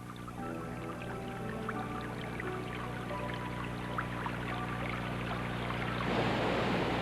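Nutrient-rich water flowing out of forest soil, a steady close trickle with dripping and pouring sounds that swells louder toward the end, with no voices.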